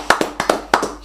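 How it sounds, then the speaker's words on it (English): A church congregation claps hands in worship, a quick burst of about eight sharp, close claps in an uneven rhythm. "Clap for Jesus"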